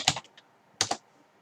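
Two short bursts of computer keyboard keystrokes, a few clicks each, close and crisp with a quiet pause between them, entering a command on a Linux terminal.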